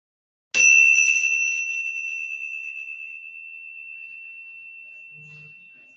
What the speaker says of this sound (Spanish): vamos a cerrar con el sonido de la campana